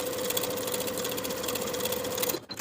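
A sewing machine runs a continuous stitch along a pocket seam of pull-on barrel leg pants with a 1/4 inch allowance, a steady close mechanical whir and rapid needle chatter that stops abruptly near the end.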